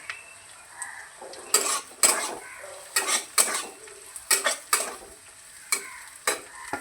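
Fried cauliflower and egg stirred into spices in a pan, a soft sizzle under repeated scraping, clattering strokes of a spatula coming in irregular bursts.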